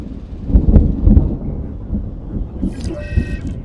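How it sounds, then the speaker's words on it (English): Low rolling thunder rumbles from a storm in the Jurassic World Evolution 2 video game, followed by a brief tonal horn-like alert sounding over the fading rumble. "The storm is upon us."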